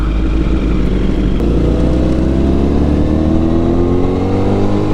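Steady, loud motorcycle engine drone under way, its pitch slowly rising as the bike accelerates, with no talking.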